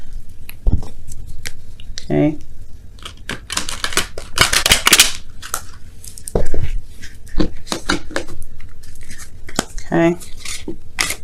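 Tarot cards being shuffled by hand in a series of crisp riffling and slapping bursts, some short and some drawn out, close up and fairly loud, with a brief spoken word from a woman in between.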